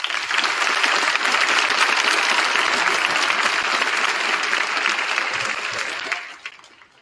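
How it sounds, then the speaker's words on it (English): An assembly crowd at a Veterans Day assembly gives a sustained round of applause for veterans, loud and steady, then tapering off near the end. "Let us all give them a round of applause."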